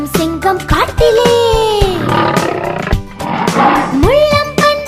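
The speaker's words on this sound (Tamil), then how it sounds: "குமுறும் சிங்கம் காட்டிலே" A lion roars in long, rumbling swells over a children's rhyme backing track, loud and close.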